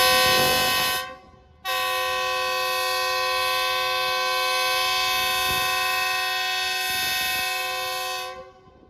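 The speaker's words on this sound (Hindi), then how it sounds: "ज़बरदस्त हॉर्न Geo40 का" A Pakistani train's Geo40 locomotive sounds its horn in one long, loud, sustained blast with a short break near the start, heard near a Karachi railway line.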